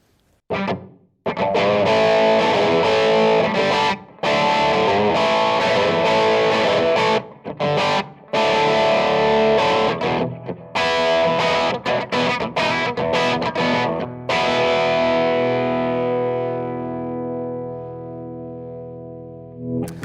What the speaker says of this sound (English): Buddha is a boutique amplifier that's got some really great clean sounds, some really great dirty sounds.